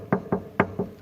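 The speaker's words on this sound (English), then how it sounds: "We knock on the tank, right?" Knuckles rap on a pet tank in five dull, close knocks in an uneven rhythm, heard alone with no talking.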